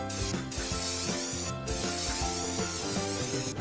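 A continuous spray hiss from a pet care game as a kitten's bangs are dyed, broad and steady over light background music, with two brief breaks in the spray.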